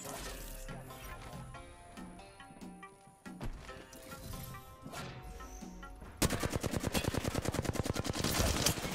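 Gunfire in the battle royale shooter Apex Legends, scattered shots and impacts under background game sounds, then a loud sustained automatic burst of rapid, evenly spaced rounds near the end.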